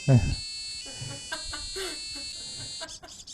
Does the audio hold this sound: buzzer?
yes